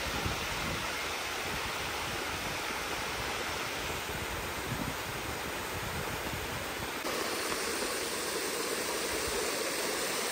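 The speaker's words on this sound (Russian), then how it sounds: "водопад, кстати, небольшой" A small waterfall in the mountains near Batumi rushes steadily nearby, a dense continuous splashing roar with no pauses or voices.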